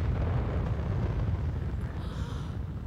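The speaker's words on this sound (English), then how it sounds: "That's a huge bullet bill. He's basically nuking the whole place." A huge Bullet Bill explosion in The Super Mario Bros. Movie: a deep, sustained roaring blast that rumbles loudly throughout and fades slightly near the end.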